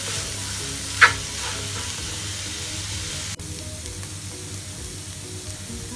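Onions sautéing with salt in a pan for chicken cutlets, a steady close sizzle throughout with one brief scrape of stirring near the start.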